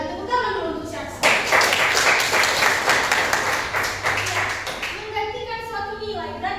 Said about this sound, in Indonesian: tepuk tangan dulu untuk si Axel